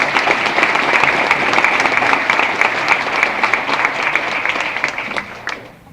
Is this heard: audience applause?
yes